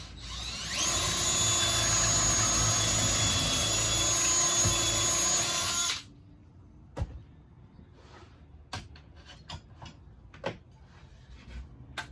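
A loud, steady power drill whirs for several seconds boring into wood, then stops, followed by scattered clicks and knocks from handling.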